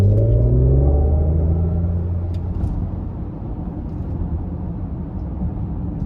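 A 2023 Mercedes-Benz EQS 580 SUV electric vehicle pulls hard from inside the cabin, a falling motor whine over heavy road rumble that settles into a steady drone.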